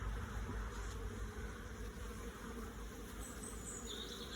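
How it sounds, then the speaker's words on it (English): Dense, steady buzzing of many honeybees swarming close by around a hive, a continuous droning hum with faint higher whines drifting in and out. "There's a lot of bees up here now."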